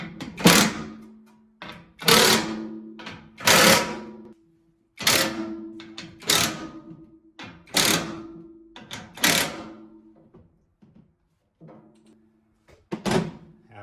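Ratcheting clicks from a half-inch socket wrench tightening M6 hex bolts on a Predator wood chipper during assembly, coming in about a dozen short bursts of rapid clicking separated by brief pauses, fairly close and loud with no talking.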